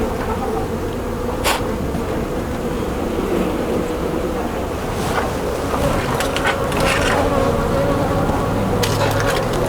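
Honey bees swarm around a beehive in a dense, continuous buzzing drone, close and steady throughout, with a few faint clicks and knocks over the hum and no voices.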